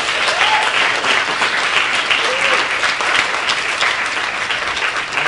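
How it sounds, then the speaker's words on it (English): Audience applause at an activist speaking event, a dense, steady burst of clapping from a crowd that fills the whole stretch, close and loud, with a faint voice barely surfacing. "That please give them a round of applause there."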